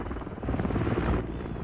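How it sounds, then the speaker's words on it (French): Helicopter in a snowy video game, a steady close rotor chop and engine rumble sustained throughout the short moment. "Il a pas un peu froid l'hélicoptère?"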